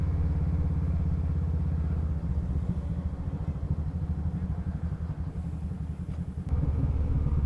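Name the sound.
motorcycles riding on a road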